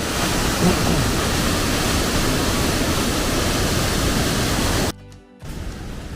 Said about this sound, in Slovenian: Pod mano pa najvišji rečni slap v Sloveniji.